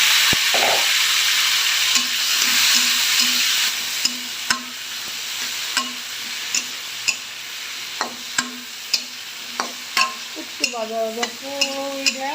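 Potato and eggplant frying in a pan with bay leaf and cumin, a loud steady sizzle with regular spoon scrapes and taps from stirring, growing busier toward the end.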